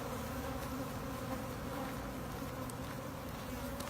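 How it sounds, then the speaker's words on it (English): Dense, steady buzzing of honeybees swarming around an open hive during a queen replacement, a continuous close drone with no talking. "Now this is a hive here."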